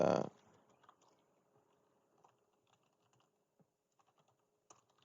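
Typing on a computer keyboard while filling in a field service technician form, heard as faint, scattered key taps after a brief loud thump at the start, quiet and close with no talk.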